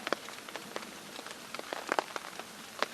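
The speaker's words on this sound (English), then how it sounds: "we're enjoying the rain" Rain patters steadily on a tent surface, a continuous close hiss broken by irregular sharper drop taps, moderately loud with no voices.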